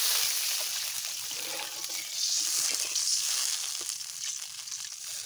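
Water poured into a pan of mustard paste frying in oil for shorshe hilsa raises a loud, continuous hissing sizzle that swells and eases without a break.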